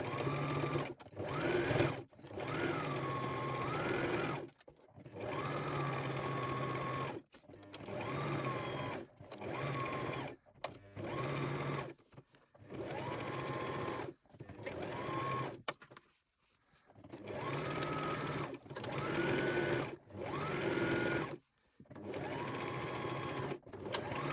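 Sewing machine stitching the seam of a Christmas stocking, running in repeated bursts of steady motor hum separated by short pauses, close and clear, with a voice speaking between runs.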